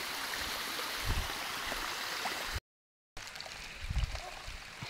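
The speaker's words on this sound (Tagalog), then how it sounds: "Ay, ayan na yung ilog guys." A river flows and trickles steadily close by, a continuous watery rush with faint soft splashes, briefly cut to silence midway.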